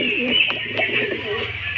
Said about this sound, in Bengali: এই যে দেখুন লাল মুসকি নর পায়রা